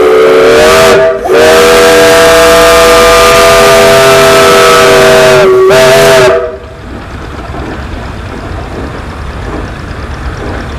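A steam whistle from an 1899 Frick steam traction engine, 7.5 by 9, 12 horsepower, blows two loud, long blasts split by a short break, then cuts off and leaves a lower rumble and hiss in the background.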